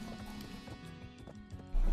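Horse hooves clip-clop in the Black Desert video game, a steady trotting patter over a low musical bed, ending in a louder sustained tone near the end.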